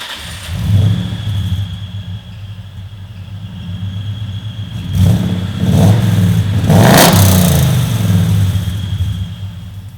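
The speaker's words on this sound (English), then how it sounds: "So now the last thing to do is just to start the car, give it a tune on the dyno" A 1969 Ford Mustang fitted with a Coyote V8 and EFI conversion idles with a deep, lumpy rumble, then the engine is revved twice in quick succession, rising loudly before settling back to a throbbing idle.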